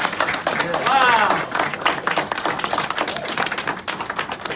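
An audience applauds after a live presentation by speaker Dominic Curry, close, loud clapping with individual hand claps standing out, mixed with cheering voices and talk.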